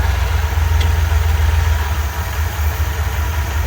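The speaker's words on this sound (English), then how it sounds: "Alright, we're idling." A 1984 Ford E150 camper van engine idles with a steady low rumble and a faint even vibration, close and constant throughout.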